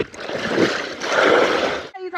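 Water splashing and sloshing as a bucket is filled beside a rowboat in the rain, two surging splashes close by, then a voice speaks at the end.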